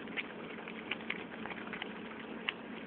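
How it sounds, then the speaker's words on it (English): Chakara pongali, a sweet rice dish cooked with plenty of ghee, bubbles and boils in a pot, giving a soft, faint simmering patter broken by a few sharper pops. "you can see that it's bubbling, boiling"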